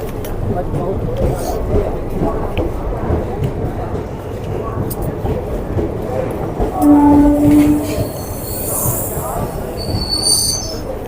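A passenger train rumbles at Ramnagar station while coaches of the Ranikhet Express wait to be attached, with a loud steady rolling drone, a brief high squeal or horn tone midway and someone speaking throughout.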